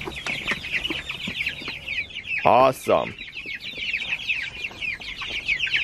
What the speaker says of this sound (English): Let's go check on the meat birds, see how they did last night.